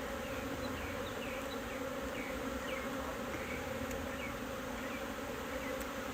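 A dense, steady drone of many honey bees rises from a strong, open hive during a February inspection, close and continuous with no talking.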